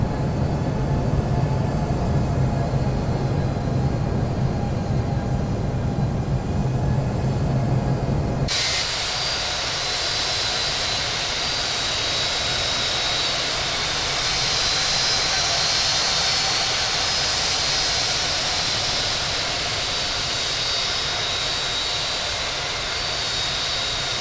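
A Royal Air Maroc 737 MAX 8 jet on its takeoff roll in the Infinite Flight simulator, with a steady, loud engine roar that shifts partway through into a brighter, higher-pitched thrust whine that holds to the end.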